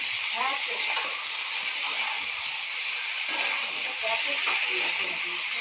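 Spice paste for aloo dum frying and sizzling in a pan, a steady bright hiss with occasional stirring scrapes, close and continuous, with faint background sounds.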